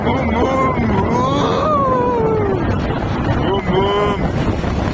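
Cold wind gusts buffet the microphone in a constant rushing roar while people talk over it.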